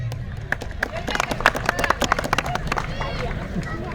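A village crowd at a sports match in Adgaon claps for a woman guest: scattered, uneven handclaps over steady crowd chatter and nearby voices.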